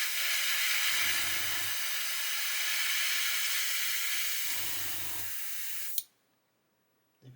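An airbrush sprays paint onto a model spare wheel in a steady, close airy hiss that runs for several seconds with two short low hums of a compressor underneath, then stops abruptly into near silence.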